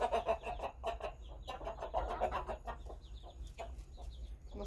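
A rooster and a hen with young chicks cluck in a farmyard, a busy run of short, repeated clucks and squawks, close and moderately loud with no talk.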